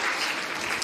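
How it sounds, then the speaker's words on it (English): A brief, steady wash of applause from an audience at a young naturalists' science competition event, dense clapping heard alone at moderate level. "please give yourself another round of applause"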